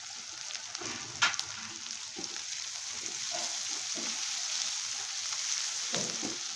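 Turmeric goes into masala roasting in a pan for kat vada, giving a soft, steady sizzle with intermittent spoon scrapes and a sharper knock early on.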